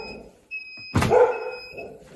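A single sharp dog bark rings out nearby, followed by a brief whine, with a faint high electronic tone in the background.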